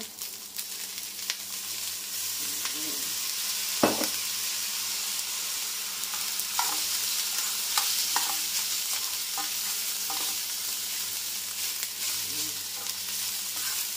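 Fried rice sizzling in a pan with soy sauce added, a continuous loud hiss and crackle broken by scraping stirs, close up with no talking.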